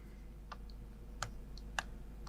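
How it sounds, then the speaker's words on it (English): Light tapping on the touchscreen keyboard of a HONOR MagicPad 4 tablet, three or four soft, spaced clicks over a low steady hum. "I think I can type it in here."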